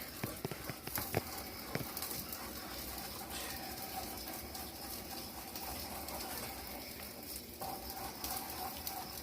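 Mulberry juice stirred in a pot while three cups of sugar are added, a continuous soft scraping and swirling with occasional clinks, and a pigeon cooing faintly in the background.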